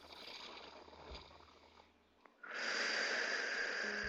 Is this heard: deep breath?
yes